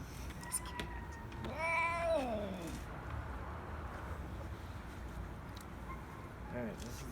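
An old cat being bathed lets out one drawn-out, wavering complaining meow, then a shorter faint one later, near and fairly quiet over running-water background noise.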